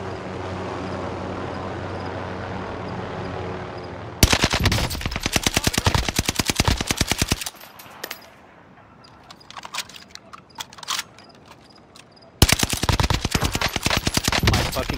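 Bursts of automatic gunfire in the video game Call of Duty Warzone, loud rapid volleys that stop briefly, leave a gap of scattered lighter shots and game sounds, then resume with full-strength firing.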